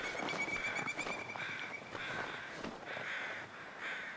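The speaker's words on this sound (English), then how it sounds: "Where are these crows? You hear them?" Crows caw repeatedly inside a video game, several harsh calls in an uneven sequence, moderately close and quiet, with no talking over them.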